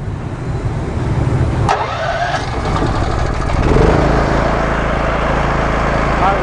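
A Komatsu 6900CG single-phase 5 kVA petrol generator is started with its electric key starter: a short sharp click, then the engine catches and settles into a loud, steady, close running drone.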